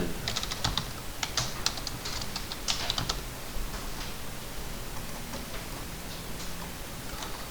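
Someone types commands into AutoCAD on a computer keyboard, with quick bursts of crisp key clicks and pauses between them, close by and with no talking.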